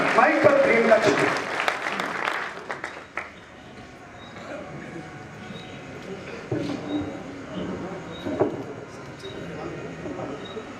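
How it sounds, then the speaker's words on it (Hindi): Audience applause at a poetry recital during a village fair, loud clapping that fades after about three seconds into faint crowd murmur and background noise. "जोरदार तालियां"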